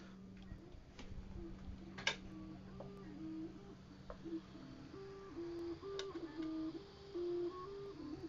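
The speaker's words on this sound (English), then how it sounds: "Gotta check out my printer quick. It's making some weird noises." A 3D printer printing a mask gives off quiet, shifting motor whines that step between pitches, with occasional ticks and clicks over a low hum.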